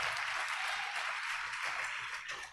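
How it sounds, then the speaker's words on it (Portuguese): A church congregation claps for Jesus during a sermon, producing a soft, continuous wash of applause that sounds somewhat distant and fades slightly toward the end. "dá uma salva de palmas para Jesus aí"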